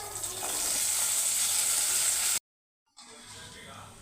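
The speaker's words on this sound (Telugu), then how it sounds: "పోపు వేగింది, బీరకాయ వేసుకుంటాం." Ridge gourd dropping into hot tempering oil for a chutney sets off a loud, steady sizzle and fry hiss, which breaks off into a brief silence before a quieter sizzle returns.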